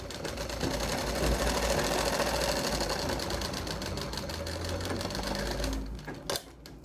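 Sewing machine running steadily while stitching a double bone back pocket on a pair of pants, a close, continuous rapid mechanical whir that stops near the end with a few clicks.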